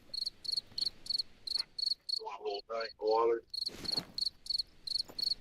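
Crickets chirp in steady bursts of rapid pulses in Hunter Call of the Wild, a hunting game, with a voice speaking briefly over them in the middle.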